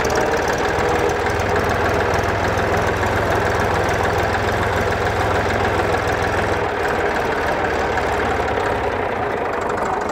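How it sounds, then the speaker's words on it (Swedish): A Volvo BM320 tractor engine runs loud and close for about ten seconds as a steady, knocking diesel rumble, with a low engine tone that drops away near the end. "Där får vi ta och köra ut med traktorn också innan det går att"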